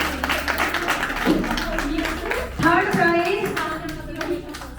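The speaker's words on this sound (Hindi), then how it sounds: "तालियां दीपा खोलिया जी के लिए।" Audience clapping for a prize winner at a Triveni Kala Kendra aipan art award event, irregular hand claps close by mixed with a speaking voice and some child chatter, swelling briefly midway.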